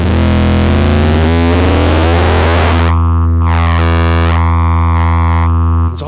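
Metasonix RK-3 tube Eurorack ringer/shaper module producing a loud, buzzing, heavily distorted drone whose harmonics sweep and jump erratically in a phase-locked-loop style, with abrupt shifts in tone partway through.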